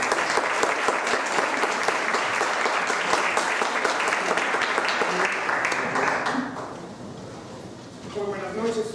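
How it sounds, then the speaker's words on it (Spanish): An audience applauds loudly and steadily to welcome a lecturer before a talk on Western painting, the clapping fading out after about six seconds as a few voices and faint sounds remain. "Le damos un fuerte aplauso"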